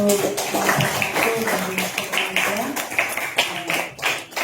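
Classroom applause, a group of students clapping their hands in a steady patter of sharp slaps, mixed with talking voices throughout.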